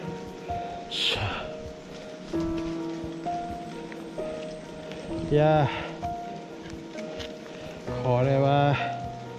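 Rain falls steadily on a mountain trail along Kassen Ridge during a September hike, a constant soft patter with humid ambience, while people talk briefly over it.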